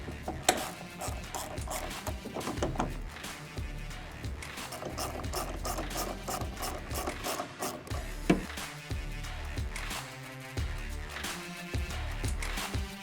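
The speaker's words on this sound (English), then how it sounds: "These nuts use a 10mm socket, but just snug them up." Ratchet socket wrench with a 10mm socket snugging nuts during a Bestop Supertop Ultra install on a Jeep JLU, rapid close clicking in repeated bursts with occasional knocks and rubbing.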